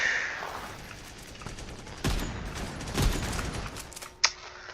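Video game gunfire comes in a few sharp bursts of shots over a quiet in-game backdrop, with a final loud crack near the end.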